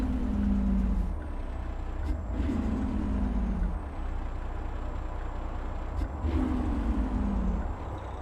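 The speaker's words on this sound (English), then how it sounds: "Jake brake works good" Engine braking from a heavy truck's Jake brake in American Truck Simulator, a rumbling low drone that rises and falls in repeated surges over a steady engine hum, with an air-brake style hiss near the start.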